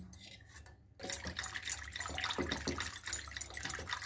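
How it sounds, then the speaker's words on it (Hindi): Yogurt thinned with a little water being churned by hand with a wooden churner for bathua raita, giving a steady wet sloshing and swishing that starts abruptly after a brief quiet moment and continues close and loud. "अब इसको मैं मथ लूँगी मथनी से"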